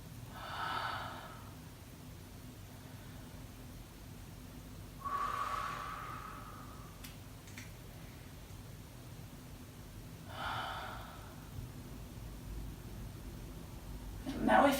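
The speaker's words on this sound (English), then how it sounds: "Take some very deep breaths here" Deep breathing during an advanced power yoga workout, three long breath sounds spaced several seconds apart, each a soft airy rush, fairly close with a quiet room hum beneath.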